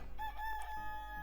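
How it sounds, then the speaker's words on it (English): Rooster crowing in the farming video game Fields of Mistria, a single steady synthetic cock-a-doodle-doo tone lasting about a second over a constant game background hum, with no talking. "Cock-a-doodle-doo."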